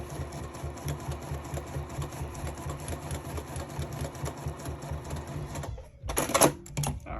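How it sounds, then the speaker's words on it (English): A sewing machine runs steadily, stitching fabric with a continuous mechanical hum and rapid needle clatter, then briefly stops before a short burst of handling noise. "we're just re-base stitching along the two lines that I cut"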